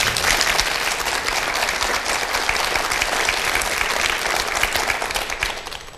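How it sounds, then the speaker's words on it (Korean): Sustained applause from a large audience after a concerto at a lecture, dense clapping throughout that fades slightly at the very end. "박수 한번 보내십시오."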